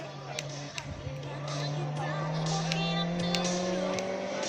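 A blue and white race car at the Quillan hill climb, its engine droning steadily and rising in pitch as it builds speed, heard at a middling distance beneath a commentator's talk.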